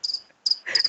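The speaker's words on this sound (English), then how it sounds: "If you make cricket noises with your phone right now" Cricket chirps play from a phone speaker as three short, bright trilling bursts, clear and close, with no talk over them.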